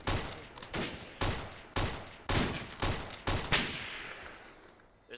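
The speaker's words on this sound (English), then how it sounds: "They're shooting." Bursts of gunfire in a first-person shooter video game, about seven sharp distant volleys in a loose rhythm, each with a trailing echo, heard alone without talk.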